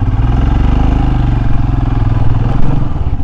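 Royal Enfield Himalayan motorcycle riding a dirt road, a very loud close engine thrumming in a steady low pulsing rumble with a slight rise in pitch, rattle and wind over it, no talk.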